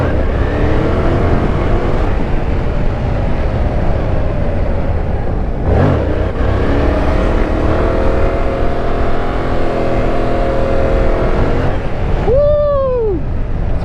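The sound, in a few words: sport bike motorcycle riding with no front wheel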